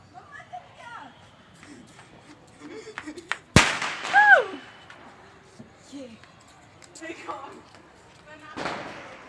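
A small Diwali firecracker goes off once with a sharp loud bang mid-clip, its crackle trailing briefly, amid outdoor festival ambience with children's voices and scattered distant pops.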